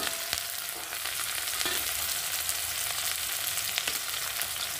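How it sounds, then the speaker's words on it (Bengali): Chopped onion and a green chili frying in hot oil in a pan, a steady close sizzle with a few sharp crackles and pops scattered through, no voices. "তেলটা গরম হয়ে গেছে। এই পর্যায়ে আমি দিয়ে দেব কেটে রাখা পেঁয়াজটা আর একটা লঙ্কা।"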